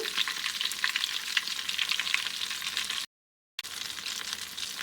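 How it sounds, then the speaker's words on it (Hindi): Potato nuggets fry in hot oil with a loud, dense, steady sizzle and crackle up close. The sound cuts out briefly near the end, then resumes. No voices. "ये तकरीबन फ्राई हो चुके हैं।"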